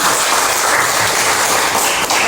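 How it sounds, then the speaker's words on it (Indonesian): Students in a classroom clap together in a brief, loud burst of close, dense applause that stays steady until it ends. "Kasih tepuk tangan teman-teman."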